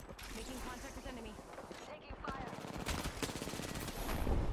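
Gunfire in the video game Apex Legends, rapid bursts of automatic shots rattling close and loud, heaviest in the second half, with faint speech mixed in.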